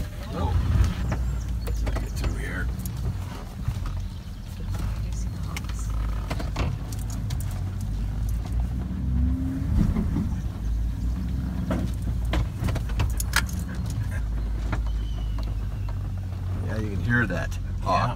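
A truck drives slowly along a path through unmowed grass nearly as tall as the vehicle on a South Dakota farm, a steady low engine rumble with scattered brushing and rattling, and people talking over it.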